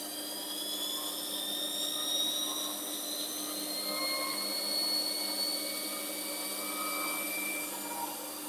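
A lathe with an Arduino-driven electronic leadscrew runs fast at about 1,000 RPM, making a steady high-pitched motor whine with rising tonal hums, constant and fairly loud, with no speech.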